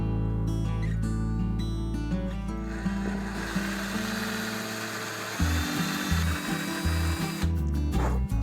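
A power drill bores holes into the neck tenon of a handmade guitar, working through a template. It whines up and settles into a steady close-up drone, then breaks into a few short pulsing bursts alone.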